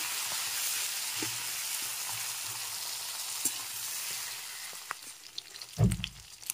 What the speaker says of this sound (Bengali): ভেঙে আরও একটু ভালো করে নেড়ে চেড়ে ভেজে নিতে হবে।